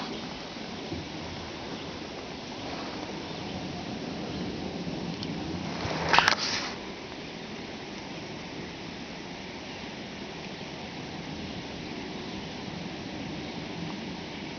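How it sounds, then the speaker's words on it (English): Waterfall heard from a kayak on a lake: a soft, steady distant rush of falling water beneath faint paddle and water lapping, with one brief louder splash or knock near the middle. "There's a waterfall back in there."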